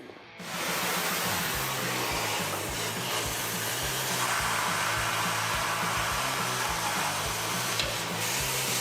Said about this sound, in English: I'm gonna go ahead and torch all these bed mounting bolts